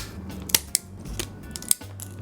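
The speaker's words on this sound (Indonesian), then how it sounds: "Gue kepaksa pakai gunting ini." Scissors snip several times during modding of a budget Vortexseries Mono keyboard, sharp crisp cuts spaced irregularly and heard up close over a quiet background with a low hum.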